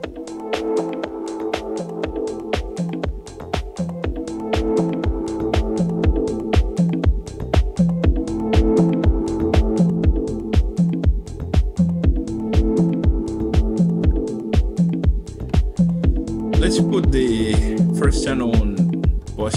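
A Roland SP404 MK2 sampler plays a repeating two-bar loop of punchy drums and chopped tones, steady and rhythmic throughout, with a brighter burst of sound layered in near the end.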